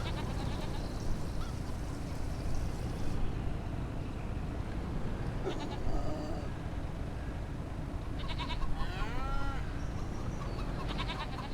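Goats bleat in a farm goat pen on a homestead, a few wavering calls at mid-distance over steady outdoor background noise, with no voices.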